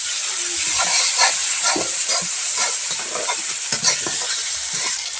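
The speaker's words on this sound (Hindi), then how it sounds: "अब हम अच्छे से इसको चला लेते हैं" Tomatoes with salt stirred in a pan on the stove for potato chokha: a steady loud frying sizzle with repeated scraping strokes of a spoon throughout, no talking.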